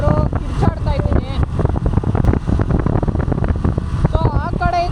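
A cool monsoon wind buffets a rider on a motorbike trip through green countryside near Halebidu, making a continuous loud roar across the microphone. Someone talks over the wind throughout.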